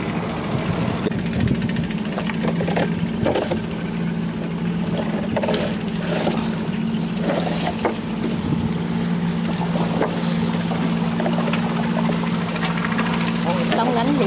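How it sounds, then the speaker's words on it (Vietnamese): Choppy waves slap against a small fishing boat amid a steady engine drone and wind noise, with people talking over it. "Ôi, sóng đánh dữ rồi."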